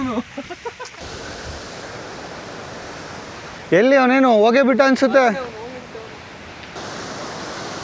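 A hidden waterfall near Kabbe Betta in Coorg gives a steady, broad rushing hiss that runs the whole time, with a voice talking over it partway through.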